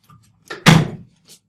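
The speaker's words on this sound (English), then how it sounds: "Okay, I'm going to close the door here." An indoor door shuts once with a single solid thud, with a brief faint rattle before it and a small click after.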